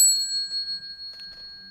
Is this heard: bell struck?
yes